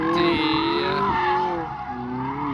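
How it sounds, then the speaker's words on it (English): McLaren 570 on semi-slick tires doing donuts, engine droning loudly with a sustained rising and falling tone and tire noise, close and continuous. "And now Shmi gonna try donuts"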